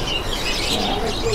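Zebra doves (perkutut) call at a busy bird market in Pramuka, Jakarta, soft cooing and chirps mixed with other birds against steady crowd and market noise.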